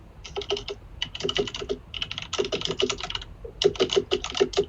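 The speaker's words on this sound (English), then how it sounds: "Somebody's going ham with the typing." Rapid computer keyboard typing in bursts with short pauses, clattering keys fairly close and steady, no voices.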